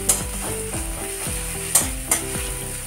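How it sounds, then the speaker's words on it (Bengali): Chopped onions fry in hot oil in a kadai, a loud, steady sizzle close by, with a few sharp scraping clicks from stirring breaking through. "পেঁয়াজটাকে একটু লাল করে ভেজে নেব।"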